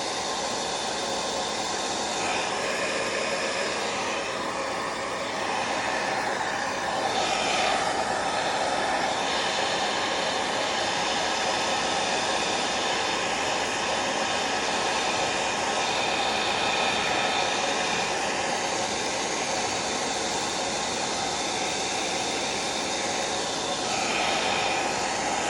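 A heat tool blows steadily while drying thick acrylic paint in a journaling page, a constant loud whooshing roar lasting the whole clip with slight swells in intensity.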